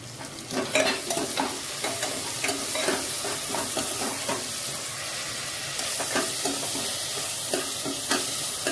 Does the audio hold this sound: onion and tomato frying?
yes